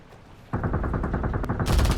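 Rapid automatic gunfire in Rainbow Six Siege erupts after a short quiet moment and continues as loud, close, steady bursts to the end, growing sharper in the final stretch.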